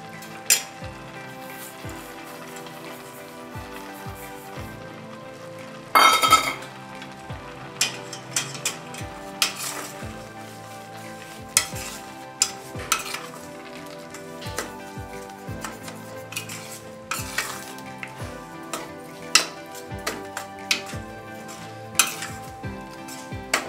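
Carrot halwa being stirred in a pan with a metal spoon, giving repeated scraping and clinking strokes over a soft sizzle, steady and close, with no talking.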